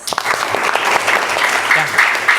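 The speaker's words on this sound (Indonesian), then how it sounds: "Beri tepuk tangan untuk Dimas." A classroom group claps for a student, a short burst of dense, fairly loud handclaps with a few distinct claps at the start and faint voices mixed in.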